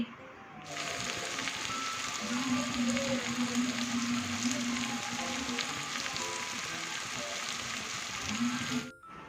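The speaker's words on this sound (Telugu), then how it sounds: "ఆనియన్ ముక్కలు అయితే మంచిగా ఫ్రై అయినాయండి" Onion pieces sizzle steadily in hot oil in a pan, prepared for a potato fry, a dense continuous crackle that starts abruptly and holds at an even level before cutting off near the end.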